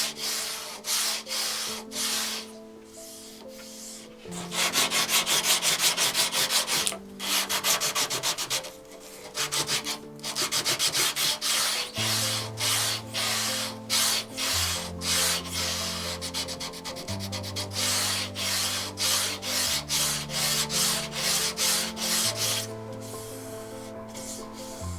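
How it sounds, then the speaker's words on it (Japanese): A stool built from scrap wood is hand-sanded in repeated rhythmic rubbing strokes, close and steady, with short pauses between passes over a background of music. "いつもに増して丁寧にサンディングをしてみることにしました。"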